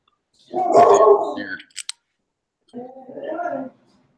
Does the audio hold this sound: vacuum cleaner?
no